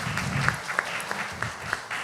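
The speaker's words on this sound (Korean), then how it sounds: "박수 한번 주시죠" An audience at a Busan youth forum panel discussion gives brief applause, a few distinct claps standing out over a soft, scattered background of clapping.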